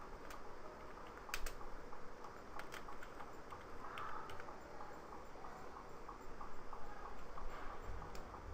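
A computer keyboard clicks in scattered, irregular keystrokes, faint and close, against a quiet background with no talking.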